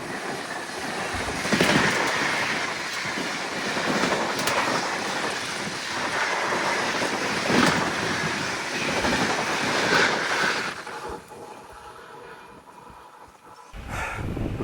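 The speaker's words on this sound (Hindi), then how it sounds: "कोई तो ट्रेन ओवरटेक कर रही है आपको। 12172 Haridwar Mumbai LTT AC express." The 12172 Haridwar–Mumbai LTT AC Express passes close by a halted sleeper train, with a loud sustained rush of wheels clattering rhythmically over the rails that fades near the end before a final burst of noise.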